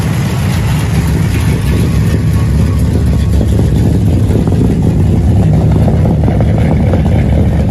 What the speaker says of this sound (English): Got some nice sounding dual exhaust. Driving our 63 Biscayne.